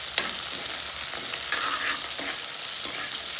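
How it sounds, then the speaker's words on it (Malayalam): Ginger and garlic sizzle in a hot pan while being stirred, a bright crackling fry with soft scraping strokes of the spoon at intervals, close and steady with no voices. "അതിന് ഇളക്കി കൊടുക്കുന്നുണ്ട്."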